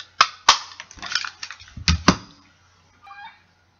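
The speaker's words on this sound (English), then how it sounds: "we're going to use the 1 1/4 inch circle punch and just punch it right in the center there" A 1 1/4 inch circle punch cuts through paper in a few sharp, close clicks and crunches, followed by a faint rustle of the paper.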